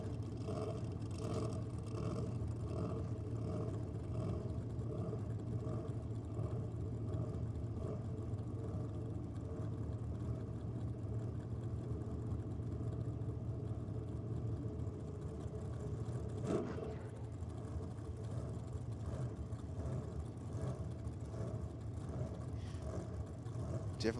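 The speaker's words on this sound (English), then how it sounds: "Definitely hear that blown Gemini of Nath Cooper" A supercharged Holden Gemini drag car, racing a 427 Cleveland-powered Chevy Nova at Sydney Dragway, gives a loud, continuous engine drone with strong harmonics. A sharp burst of power comes near the end, and a commentator talks over the roar.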